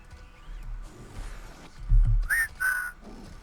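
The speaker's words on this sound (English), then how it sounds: "He whistles at the hologram again." A character whistles at a hologram in the video game Wasteland 3, two short bright rising whistle notes sounding close and clear over a low game-ambience rumble.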